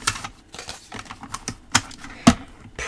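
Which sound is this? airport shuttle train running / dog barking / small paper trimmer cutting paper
small paper trimmer cutting paper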